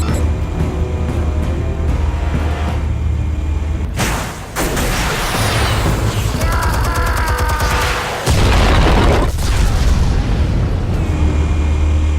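Armed explosives detonate in the Batman Telltale video game: a loud, sustained roaring blast with rumbling debris and crackling bursts, swelling again into a second heavy boom toward the end.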